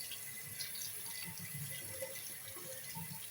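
A kitchen sink tap runs with a steady, faint hiss of flowing water and soft splashing underneath, continuous and unbroken, with no one speaking.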